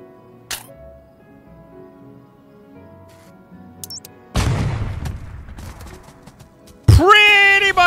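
A medium bomb goes off in the explosive puzzle game Cefore, a sudden loud blast with a noisy rumbling tail, followed by a second sharp burst with ringing electronic tones.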